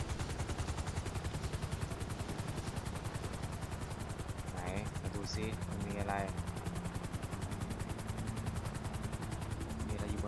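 Helicopter rotor in GTA V thudding in a steady, rapid beat throughout, with bursts of gunfire in the game and someone talking over it.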